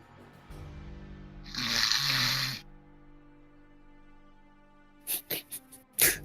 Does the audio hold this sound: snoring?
yes